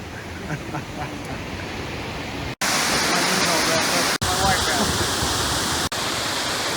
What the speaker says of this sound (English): this flow of water